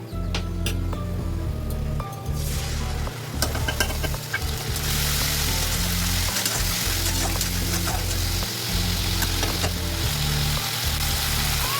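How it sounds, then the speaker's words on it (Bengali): Ginger, garlic and mustard paste hits a pan of browned onions for a rohu fish curry, a loud continuous sizzle rising sharply after a few seconds, with occasional clinks of a utensil stirring. "এরপর আদা রসুন আর সরষে বাটাটা দিয়ে দেব।"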